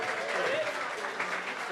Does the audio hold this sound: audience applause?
yes